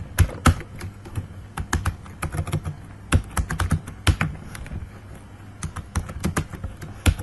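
Clicky computer keyboard typing while writing Java code, with irregular bursts of close keystrokes, short pauses between them, and no talk.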